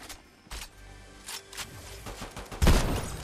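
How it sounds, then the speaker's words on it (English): Pistol shots nearby in the video game Fortnite: a few sharp, scattered cracks over quiet background, the loudest and closest burst near the end. "I knew I heard the pistol close"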